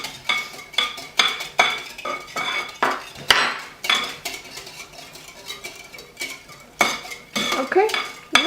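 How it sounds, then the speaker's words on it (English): A utensil mixes pancake batter with olive oil in a bowl, making repeated clinking and scraping strokes in an irregular rhythm, close and fairly loud, with no talking. "Now you can put 2 tablespoons of olive oil. Yeah. 1 and 2. Mix now."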